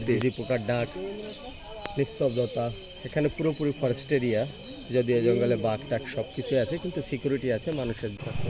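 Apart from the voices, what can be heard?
crickets chirping in forest near Tirupati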